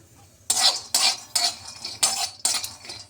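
Almonds dry-roast in a wok as a utensil stirs them, producing a regular series of about six close scraping, rattling strokes roughly every half second.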